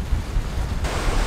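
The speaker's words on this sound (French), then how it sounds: "Aujourd'hui, le vent est toujours de la partie," Wind blows steadily beside the St. Lawrence River, a loud continuous rumbling roar buffeting the microphone, with no voices.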